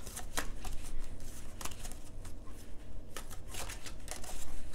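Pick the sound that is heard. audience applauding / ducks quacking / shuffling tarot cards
shuffling tarot cards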